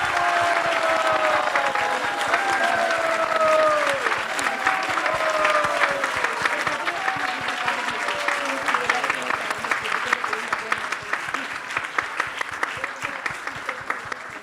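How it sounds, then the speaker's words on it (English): A large audience at an ISKCON temple event applauds a drama team, sustained clapping at close range that tapers gradually over about fourteen seconds, with a voice briefly audible over it near the start. "let's give them a special big round of applause."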